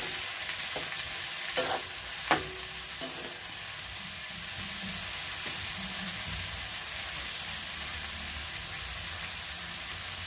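Soaked shrimp for garlic butter shrimp fry in a pan with a steady, hissing sizzle like rain that fills the whole stretch, with a few sharp utensil knocks early on, close by.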